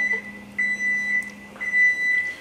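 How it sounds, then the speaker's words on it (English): A kitchen timer beeping during grilled steak dinner prep, a series of short bright electronic beeps in an uneven repeating pattern, moderately loud over a steady low hum. "So there goes the timer."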